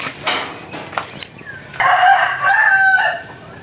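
A rooster crows loudly and close by near a chicken coop, with a few scattered clucks and rustling from the chickens before the crow.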